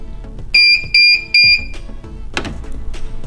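A Guardian model 615/628 overhead garage door opener gives three short, loud electronic beeps in quick succession on reset, followed by some faint clattering and rustling nearby.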